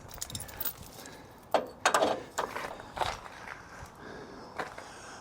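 A trailer winch is cranked by hand. Its ratchet gives close, uneven bursts of metallic clicks and clunks with short pauses between strokes.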